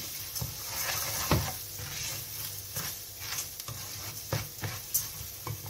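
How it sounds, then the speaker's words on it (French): Mushroom risotto with salt and pepper stirred in a pan, a low sizzle under intermittent scrapes and taps of the spoon against the pan. "Vous allez mélanger le tout."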